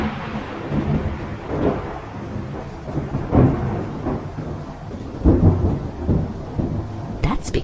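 Low rumbling thunder rolls repeatedly through a stormy sky, with several heavier booming swells rising over a constant hiss of rain.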